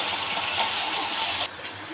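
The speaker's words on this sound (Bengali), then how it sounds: "এবার আমি চিংড়ি মাছটা" Prawns frying in a hot pan for a Bengali prawn dish: a steady, loud, close sizzle that fills the clip, then drops abruptly to a softer hiss partway through.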